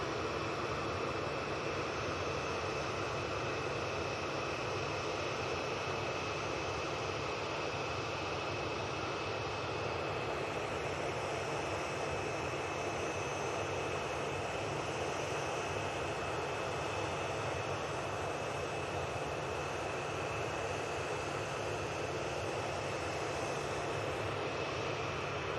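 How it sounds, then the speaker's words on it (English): A Ryanair jet touches down at Manchester Airport with a crosswind crab, its engines a continuous broad roar and high whine holding steady from a distance, with no voices. "the next inbound, which is this Ryanair. Raising a bit of smoke and taking a bit of crab angle off there and touchdown"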